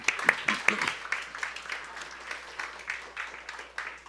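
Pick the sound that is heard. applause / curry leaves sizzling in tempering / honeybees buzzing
applause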